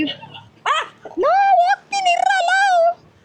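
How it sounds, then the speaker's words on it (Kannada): A dog at a rural farm home in the Philippines gives a few close, loud, drawn-out whining yelps and howl-like barks, separated by short pauses. "ಸದ್ಯ ಯಾಕೋ ನಾಯಿ ಬಡ್ಕೊಂತ ಇದೆ"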